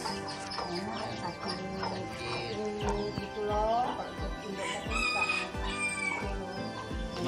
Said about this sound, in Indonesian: Bagaimana caranya agar ayam ini tetap sehat?